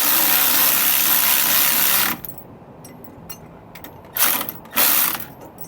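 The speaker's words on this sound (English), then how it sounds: "9/16 socket for these pieces of hardware here on these U-bolts" A ratchet with a 9/16 socket tightens U-bolt nuts on a steering stabilizer, a loud rapid clicking burst for two seconds, then quieter pauses and two more short ratcheting bursts close by.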